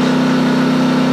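A Champion 2000 dual fuel generator runs steadily under about half load, giving a loud, continuous engine drone with a strong low hum throughout and no talking.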